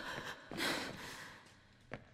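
Female character panting in the video game The Killing Antidote, a few soft, breathy gasps and exhales at low volume, spaced unevenly with quiet gaps between them.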